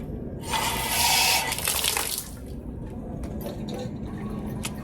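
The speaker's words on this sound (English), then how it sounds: "So let's check our eye wash." An eye wash station in a high school biology lab sprays water, a bright gushing hiss that bursts on for about two seconds and then cuts off, followed by faint dripping and quiet room noise.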